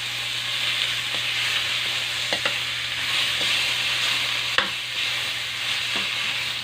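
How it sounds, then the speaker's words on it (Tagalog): Onion and meat sautéing in a pan for sinigang, a continuous close sizzle with occasional stirring scrapes and clacks of a utensil against the pan. "So, gigisahin ko siya guys. Unahin ko muna ang sibuyas."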